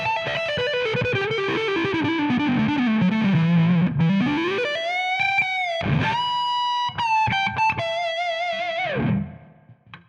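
Electric guitar on the neck pickup through a Tonex amp modeler plays sustained, distorted notes with slides and bends in a smooth, warm phrase that fades out at the end.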